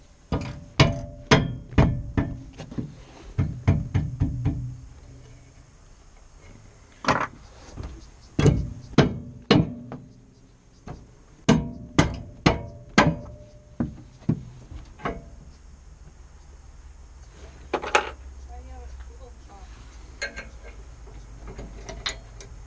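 Repeated sharp knocks and thuds as the handles of a B&W Companion fifth wheel hitch are kicked into place, loud clustered impacts in bursts with pauses between and a quieter stretch near the end.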